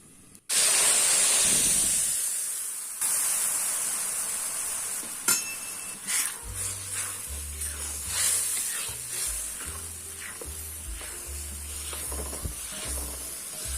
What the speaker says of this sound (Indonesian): Dan ini sudah cukup panas, jadi langsung saya tuangkan bumbu yang barusan dihaluskan.